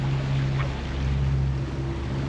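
A sailboat motor sailing at about 6.3 knots, engine just under 2,000 revs, sends a continuous low engine hum with a steady tonal drone over wind and water rush, loud and even with no speech.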